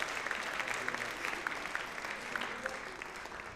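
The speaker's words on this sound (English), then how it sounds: "Give them another round of applause." An audience at a multicultural student society evening claps continuously with dense, crackling applause that holds steady throughout, with faint crowd murmur underneath.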